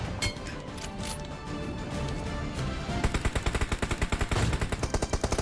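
Rapid bursts of video game gunfire, loud and close, ramping into a fast automatic volley of evenly spaced shots in the second half.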